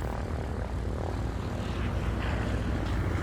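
A Cessna's propeller engine in the X-Plane 11 flight simulator drones steadily and loudly, a dense unbroken hum with no pauses.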